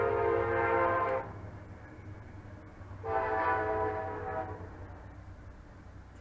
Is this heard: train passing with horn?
yes